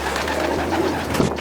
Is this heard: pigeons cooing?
yes